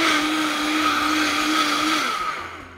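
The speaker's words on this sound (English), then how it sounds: "Now you put all of that into the blender." A kitchen blender whirs loudly and steadily, puréeing vegan carrot soup ingredients with water, then winds down toward the end, heard alone without talk.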